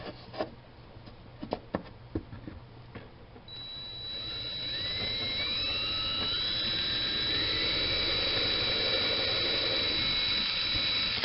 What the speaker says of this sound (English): I'll go ahead and drill these out.